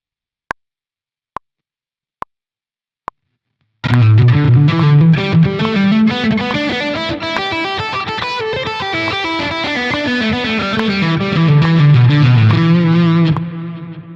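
Four evenly spaced metronome clicks at 70 BPM count in, then a loud, distorted electric blues guitar lick plays with effects, a flowing run of notes that fades slightly at the end.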